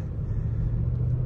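Range Rover Sport SVR with its V8 engine, a steady low rumble heard from inside the cabin, broad and droning without distinct revving peaks, no talk over it.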